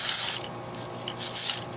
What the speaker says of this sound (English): I'm going to spray it down with some fluid film